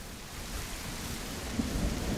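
Steady rain with a low thunder rumble in the survival video game The Isle, a continuous wash of rainfall that stays fairly faint throughout, with a few slightly stronger low swells toward the end.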